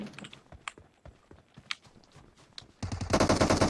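Gunfire in the online shooter PUBG on its Vikendi snow map: scattered single shots and clicks first, then a loud, rapid automatic burst close up at the end, with no talking.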